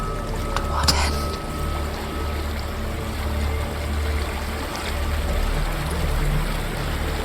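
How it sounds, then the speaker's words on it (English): Steady, dense rushing of a waterfall in the video game Hellblade: Senua's Sacrifice, a continuous broadband roar holding level throughout with a faint brief click near the start. "There's a waterfall."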